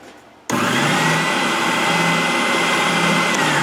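A WEN 6510T oscillating spindle sander, used for shaping guitar bodies, switches on abruptly and settles into a steady, loud motor whir with a constant hum throughout, no voices.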